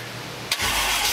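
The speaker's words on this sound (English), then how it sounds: "I finished the installation of the MSD Atomic EFI, checked for fuel leaks, and it fired right up" A car engine newly fitted with MSD Atomic EFI fuel injection cranks briefly, then fires and catches into a loud, steady roar close up.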